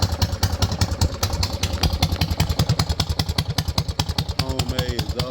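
A mini bike engine with a homemade exhaust idles with a loping beat, a steady stream of sharp, loud exhaust pulses close by with no voices over it.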